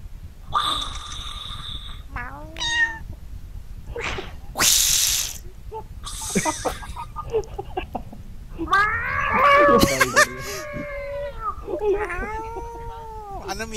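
A voice imitates a cat with several drawn-out, wavering meows during an ArmA military game session, mixed with other chatter and noises, fairly loud and close.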